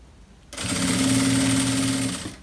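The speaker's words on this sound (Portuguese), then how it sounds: "vou passar a minha costura seguindo aqui o corte do meu forro e do meu principal" A sewing machine stitches a backpack's lining and main fabric together along the cut edge. A steady, close mechanical whir starts abruptly after a brief quiet and runs continuously for about two seconds with no voices.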